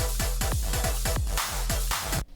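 A short clicky sound, vocoded to chords, layered with the original click and saturated, repeating as a rapid, punchy rhythmic pattern of tonal hits for about two seconds, loud and alone.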